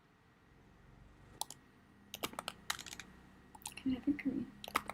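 Typing on a computer keyboard during a livestream, with sparse clicks that build into quicker clusters of keystrokes, fairly close, and a brief murmur of voice near the end.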